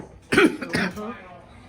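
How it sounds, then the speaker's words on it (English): A single hoarse cough bursts out close by, followed by a brief rough throat-clearing. "This stupid cough."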